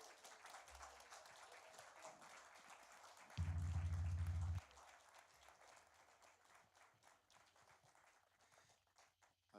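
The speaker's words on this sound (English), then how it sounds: "Keep cheering them as they come down." Faint, distant audience clapping and cheering at a community engagement forum, a thin scattered patter throughout, briefly covered by a loud low hum in the middle before trailing off.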